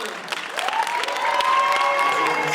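An audience at a panel discussion on the state of R&B applauds and cheers, steady clapping that builds slightly in loudness, with a few whoops rising above it.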